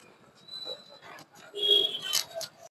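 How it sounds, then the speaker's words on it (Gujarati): A dog near a roadside shop gives soft whimpers and short yips, faint and intermittent over quiet surroundings, with brief murmurs of a person. "જુઓ આ કૂતરું છે, તમે તો કોઈ દી જોયું નહીં હોય"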